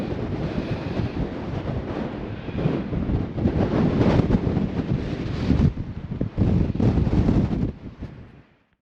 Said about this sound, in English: as you can hear, it is blowing a bloody gale today